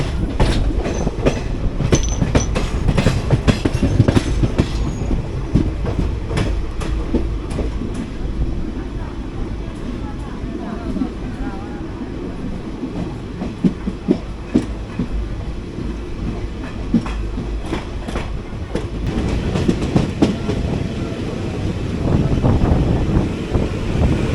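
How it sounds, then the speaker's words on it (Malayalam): The Kochuveli–Raptisagar Express passes in the Palakkad Gap with a loud, sustained rumble, rhythmic clickety-clack of wheels over rail joints and buffeting wind noise on the microphone, close throughout. "കൊച്ചുവേളി റപ്തിസാഗർ എക്സ്പ്രസ് ആണ്"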